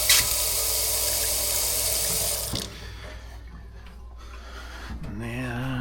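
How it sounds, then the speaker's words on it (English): Water runs hard from a lakehouse faucet with a leaking hot valve, a loud steady gush that cuts off abruptly, leaving faint drips and handling noises before a voice speaks briefly near the end. "The hot valve leaks. Cold valve's not."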